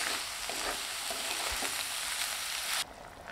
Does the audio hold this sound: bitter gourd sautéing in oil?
yes